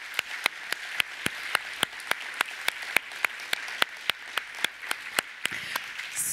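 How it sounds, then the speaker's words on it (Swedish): Audience applause at a Swedish digital culture conference, a steady wash of clapping with sharp individual claps landing at a regular, almost rhythmic pace, moderately loud and continuing for several seconds without talk. "Jag tycker vi ger dem en stor applåd för deras fantastiska arbete."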